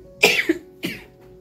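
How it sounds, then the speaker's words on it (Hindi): A woman coughs twice in quick succession, sharp and close, the second cough weaker, with quiet room tone between and after. "मेरी इतनी ज़्यादा खांसी हो रही है"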